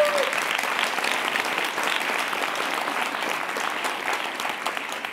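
A crowd of audience members applauding at a cultural center event, dense sustained clapping that starts strong and gradually eases off, filling the room without speech.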